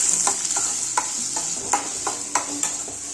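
Curry leaves, onion and chili tempering for sambar in hot oil sizzle with a steady hiss while a spoon clacks against the pan in regular stirring strokes; no talking.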